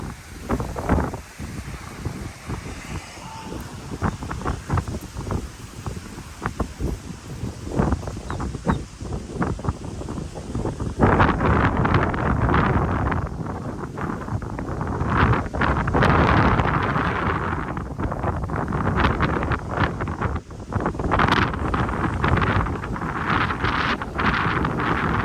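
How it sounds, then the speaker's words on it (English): Strong wind buffets the microphone beside coastal rocks in Florida, a loud continuous roar with gusty surges that grows heavier after the first half, with the sea faintly under it. "It's just very windy out here."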